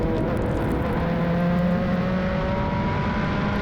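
A Formula Regional Americas race car, number 25, at speed around Canadian Tire Motorsport Park, gives a loud, steady, close engine drone with a sustained high whine that holds throughout.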